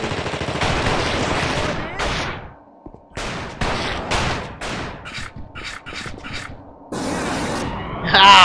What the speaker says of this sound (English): Try and pistol it.